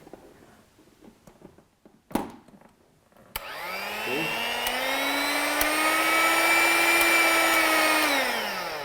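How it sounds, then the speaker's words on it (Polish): A vintage kitchen mixer fitted with a coffee grinder attachment, which clicks into place and then starts with a loud, steady motor whine that rises and holds for several seconds. "To jest akurat młynek do kawy, tak. odłączam, wkładam."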